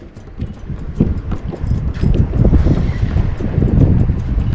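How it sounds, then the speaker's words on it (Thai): Strong wind blows along the sea coast, buffeting the microphone with loud, continuous low rumbling gusts that build and stay heavy throughout, with no talk. "ลมแรงนะครับช่วงนี้นะครับ"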